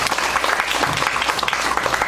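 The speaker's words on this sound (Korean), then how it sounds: "힘찬 박수로서 모시겠습니다." An audience at a lifelong learning festival conference in Daejeon breaks into sustained, dense applause to welcome a university professor taking the stage as a panel discussant, steady and loud throughout.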